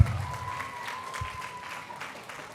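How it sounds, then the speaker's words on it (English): Applause from a crowd at a live Christian music festival concert, a steady patter of many hands clapping close by, gradually fading a little toward the end. "A round of applause, a round of applause"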